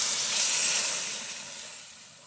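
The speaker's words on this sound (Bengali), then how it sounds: "একটু গরম পানি দিয়ে দিলাম।" Hot water poured into a hot pan of cauliflower and bean flower curry with fish, a brief bright hiss that swells quickly and then fades over about two seconds.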